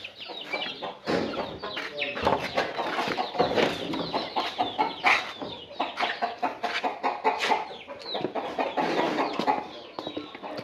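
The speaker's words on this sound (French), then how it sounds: "nous avons cette loge aussi de poulet brahma qui est aussi une loge de reproduction" Brahma chickens in a breeding pen on a Cameroonian farm cluck continuously in a busy, close chorus of overlapping short calls, with faint voices in the background.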